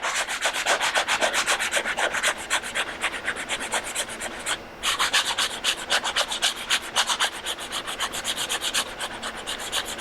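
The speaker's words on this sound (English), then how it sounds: "a little more sanding at the 120" Steady, rhythmic strokes of 120-grit sandpaper rasp back and forth across drywall, close up and continuous, with a brief pause midway.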